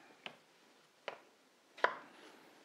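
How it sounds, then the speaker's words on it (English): A knife chopping potatoes on a cutting board, three separate sharp knocks spaced unevenly in a quiet room, the last one loudest and closest. "Now I'm just cutting up the potatoes so that they will cook a bit quicker."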